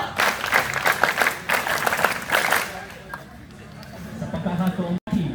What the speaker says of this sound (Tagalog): Palakpakan! Palakpakan!